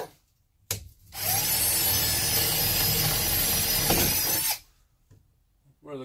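A power drill bores small holes in wood for an electrical box, running at a loud, steady whine for about three and a half seconds after a brief start, with quiet handling before and after.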